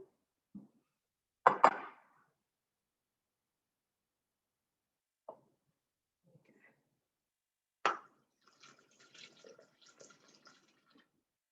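Water poured into a Thermomix bowl in a few short, faint splashes and trickles separated by silence, the last pour a longer, patchy stream.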